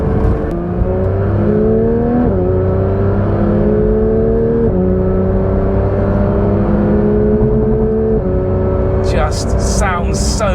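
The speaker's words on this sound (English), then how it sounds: "Just sounds so lovely, that engine." Porsche 992.1 911 GT3 engine revving on a mountain drive, a loud continuous cabin-heard drone climbing in pitch through several gear changes, with a voice talking briefly near the end.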